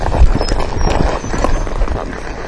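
A horse's hooves beat in a quick, rhythmic canter during a rebound-and-turn riding exercise, with dull, close thuds over a busy outdoor background.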